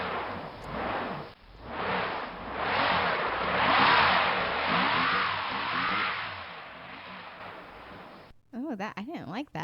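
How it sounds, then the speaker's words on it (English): A car engine revs hard while stuck in snow, its whining pitch rising and falling in repeated loud surges as the wheels spin, before a voice briefly speaks at the end. "That was a car stuck in the snow."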